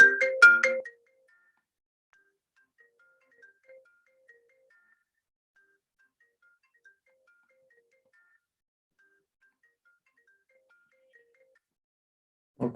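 A phone ringtone plays through a linked computer as a short burst of bright electronic tones, followed by long near-silence with faint scattered blips and a brief sound at the very end.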